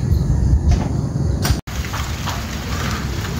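Steady rain patters and hisses across surfaces, with a brief break in the middle before the dense downpour continues.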